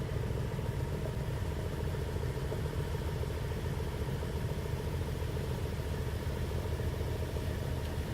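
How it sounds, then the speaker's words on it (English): A V10 engine idles steadily just after its first start, its quiet exhaust giving a low, even rumble with a faint mechanical clatter running unbroken throughout. "Definitely got to do something with that V10 exhaust. She is too quiet for me."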